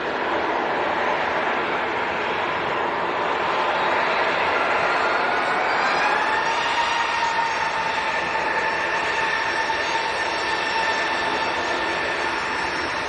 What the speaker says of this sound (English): Ryanair next to go. This is an 800 series 737.